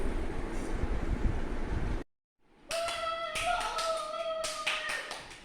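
Hand claps ring out in a quick run after a brief silence, with a steady whistling tone carrying underneath them.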